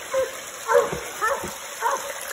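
Coonhounds baying at a treed raccoon during a rainy night hunt in Tennessee, several short rough barks in an uneven rhythm, moderately distant, over a steady electronic whine.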